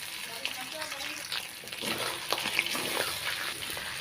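Fish heads with ginger paste fry and get stirred in a pan, a soft, continuous sizzle with light scraping and occasional clinks; a voice may murmur faintly underneath.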